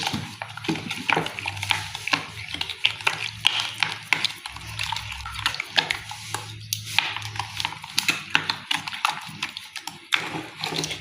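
Brioche ingredients with sugar, milk, oil, citron oil and bread yeast are mixed by hand in a bowl, giving irregular tapping and scraping knocks with soft swishing between them, close and moderately quiet.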